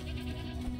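A goat in the Mr Prepper video game's animal farm gives a short, sustained, nasal bleat that fills the whole brief moment, loud and close, with no speech.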